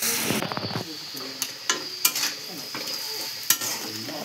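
Vegetables being stirred and fried in a pan, with Odia-style home cooking including onions and boiled pointed gourd (parwal); a steady close sizzle runs throughout, broken by repeated scraping and knocking strokes of the stirring spoon, with a voice briefly at the start.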